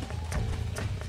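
Hooves of a horse galloping in the Red Dead Redemption video game, a quick uneven clip-clop rhythm over a low rumbling bed, close and steady for a second.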